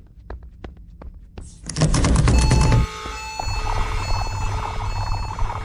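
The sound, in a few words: alarm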